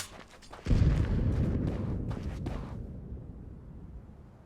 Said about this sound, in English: Grenade out. Throwing a grenade.